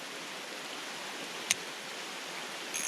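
Heavy rain pours steadily beside a trout creek, a constant even hiss of falling water and stream with one sharp brief tick midway.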